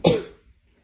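A single sharp cough from a sick child with two weeks of cough and fever, close and fairly loud, fading quickly into quiet.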